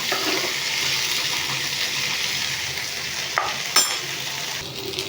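Okra fries in a pan for chutney with a dense, steady hiss that stays loud throughout, marked by a couple of brief clinks from a stirring spoon near the end.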